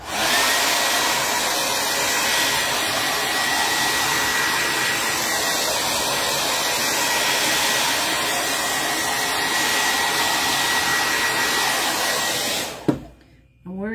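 A hair dryer blows steadily and loudly at close range for about thirteen seconds, drying paint on blue painter's tape for a patriotic decor craft, then cuts off abruptly near the end.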